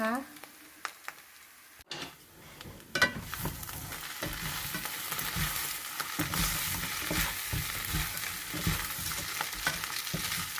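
Shrimp sizzle in a hot pan with celery and spring onion, a steady frying hiss broken by scraping stirs and clatters of a utensil as the pieces are turned, all close up.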